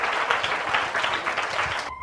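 A church congregation at an evangelical tabernacle applauds loudly for children, a dense steady wash of many hands clapping that cuts off abruptly at the end.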